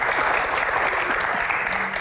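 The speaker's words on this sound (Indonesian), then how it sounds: "Senyum dong, tepuk tangan" An audience applauds at a public Q&A with Indonesia's deputy manpower minister, dense steady clapping filling the whole stretch at an even, close level with no pauses.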